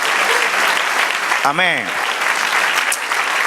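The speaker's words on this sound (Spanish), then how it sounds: "Denle otro aplauso al Señor." A church congregation applauds loudly and steadily throughout a worship service, a dense wall of clapping, while a voice briefly calls out over it midway.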